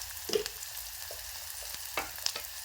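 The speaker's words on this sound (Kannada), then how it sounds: "ಒಂದು ಸ್ವಲ್ಪ ಉಳ್ಳಾಗಡ್ಡಿ ಸಂಗಟ ಫ್ರೈ ಮಾಡ್ಕೊಳ್ಳೋಣ" Onions fry with chili powder and salt in a pan, giving a soft, steady sizzle broken by a few sharp stirring scrapes and taps. No one speaks.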